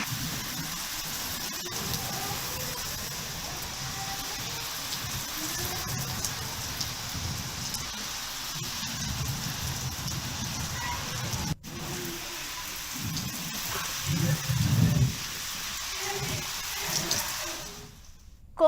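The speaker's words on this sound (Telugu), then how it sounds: "ఈదురుగాలులతో కూడిన భారీ వర్షం పడింది." Heavy rain driven by gusty winds in Telangana hisses steadily, with louder surges and gusts toward the end.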